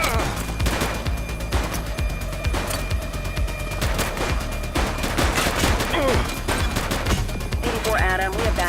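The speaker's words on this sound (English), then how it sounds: "Doesn't look like they're gonna give us a choice. Light them up! She's shooting!" A police video game shootout with dense, continuous bursts of gunfire cracking and rattling throughout, loud and close, with game voices shouting in the mix.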